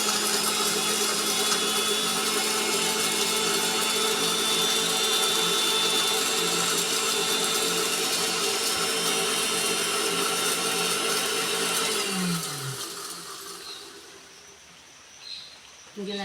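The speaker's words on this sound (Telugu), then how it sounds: "మిక్సీ పెట్టేద్దాం ఇది." A mixer grinder runs loud and steady while blending gongura coconut chutney with rock salt, a dense whirring roar that holds for about twelve seconds, then winds down and stops, leaving near silence with a faint clink.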